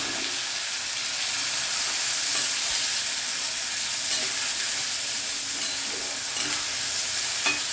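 Mustard seeds and asafoetida crackle in hot oil while tempering a mixed vegetable sabji, giving a steady, close frying hiss with small pops and occasional stirring scrapes, no talking.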